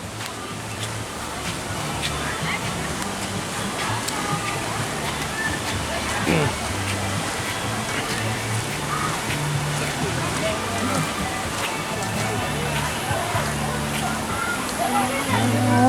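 Rushing water roars steadily down the Runoff Rapids water slide at Blizzard Beach, loud and close, with a constant splashing wash throughout and a voice talking over it.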